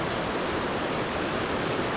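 Rushing water of a fast, high-flowing creek in the Eastern Sierra, a steady broadband roar that is loud and continuous throughout with no voices.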